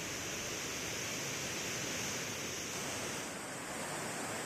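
River water gushes through twelve open gates of the Lower Dudhna dam project at about 30,000 cusecs, a continuous, loud, broadband roar that holds steady throughout without voices.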